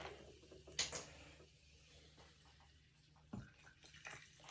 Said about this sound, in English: all you do is top it up with this sparkling water